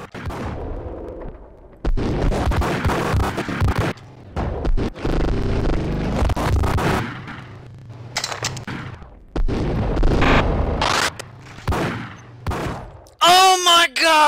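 Gunfire rings out in the video game Max Payne as loud, dense bursts of shots and impacts. The shooting is interspersed with brief quieter gaps, and a voice speaks near the end.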